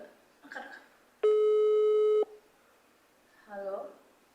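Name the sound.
telephone ringing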